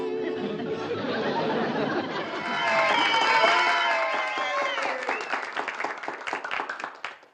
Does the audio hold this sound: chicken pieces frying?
no